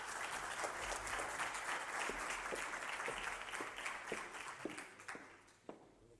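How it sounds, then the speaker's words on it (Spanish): Applause from a conference audience in Spain, a dense patter of many hands clapping together, fairly loud, thinning out toward the end with a few last scattered claps. "Un aplauso, por favor."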